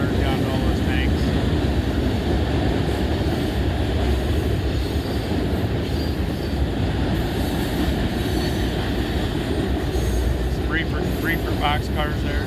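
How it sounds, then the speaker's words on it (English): Freight train of mostly covered hoppers mixed with boxcars, gondolas and tank cars rolling steadily past at Oak Harbor, Ohio, a loud continuous rumble and clatter of wheels with occasional faint squeals, and some voices underneath. "Got a lot of covered hoppers on this one here. Still mixed, but mostly covered hoppers."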